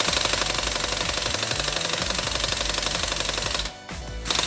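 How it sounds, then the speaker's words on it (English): Craftsman air-powered impact wrench hammering on lug nuts, a loud, close, continuous rattling burst that briefly drops off near the end before resuming. "next we're going to move on to this Craftsman Black Friday deal air compressor. So this is a air power one."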